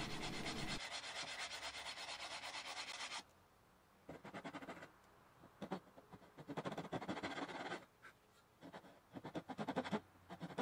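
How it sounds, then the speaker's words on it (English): Steady rasping strokes of sanding guitar inlay pieces flush with the wood, in several bursts separated by short pauses, close and fairly loud. "gluing them in place and sanding it flush"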